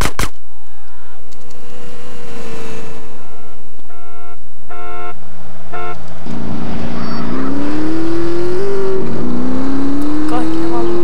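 A motorcycle engine in GTA San Andreas revs up from about halfway through, its whine climbing in pitch as it accelerates, with voices talking over it.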